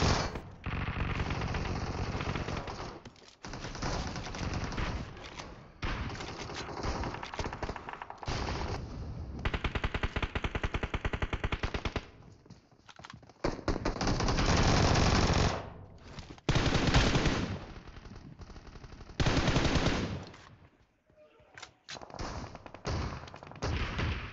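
Dense automatic gunfire in the video game PUBG plays on an iPad Mini 5: long rapid bursts of shots broken by brief pauses, loud and close, with a few scattered single shots.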